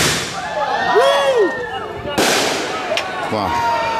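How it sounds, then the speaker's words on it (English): Leftover fireworks tossed onto a backyard fire at a 4th of July party crackle and pop with bright bursts, one whistling streak and a sharp crack midway, under cheering voices nearby. "Of leftover fireworks on the fire."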